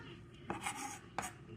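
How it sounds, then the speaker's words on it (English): A knife chops garlic on a cutting board for shrimp scampi, making a few sparse, quiet chops with pauses between them. "I'm going to keep on chopping my garlic"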